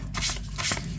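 Playing cards shuffled by hand during a card reading, a quick close riffling flutter lasting about a second.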